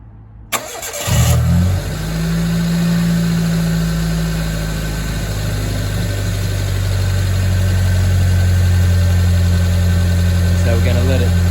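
A Mitsubishi Mirage engine starts after an oil change and settles into a steady, close idle with a constant low hum that continues to the end.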